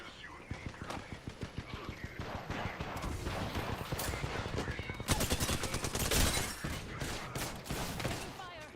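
Video game gunfire, rapid repeated shots and bursts from a first-person shooter, loud and continuous with some denser volleys, under brief character voice lines.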